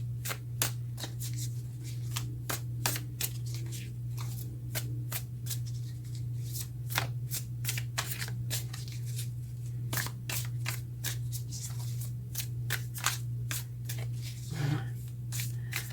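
Tarot cards being shuffled over and over, crisp riffling bursts at an uneven pace over a steady low hum, with no talking.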